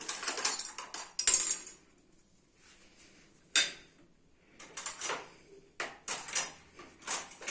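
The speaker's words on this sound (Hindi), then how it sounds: "साथ में चम्मच लगा लेते हैं" A metal spoon set down beside a serving of tea and samosas, giving several sharp, bright cutlery clinks and taps in separate bursts close by, with quiet gaps between them and no talking.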